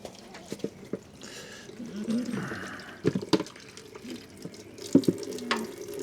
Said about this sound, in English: I'm going to empty the water, and that helps catch the water.